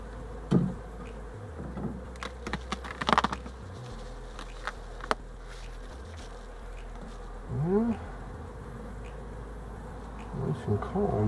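Honey bees buzz around an open beehive, close insect drones rising and passing amid a low background hum, with a few brief knocks and clicks and no speech.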